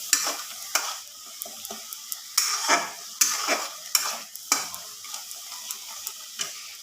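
A spatula scrapes and stirs through a spice paste for prawn malai curry in a pan in repeated strokes, with a light sizzle underneath and no talking.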